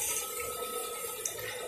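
Water being drawn into a mineral water filter system, a steady faint rushing and trickling flow that runs continuously without pause.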